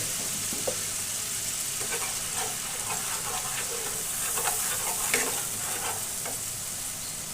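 Fish masala with cumin and ginger paste frying in a pan on low flame, a steady close sizzle broken by repeated scraping and clinking strokes of stirring, no voices.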